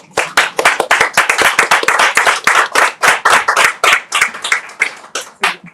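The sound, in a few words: audience clapping to welcome guests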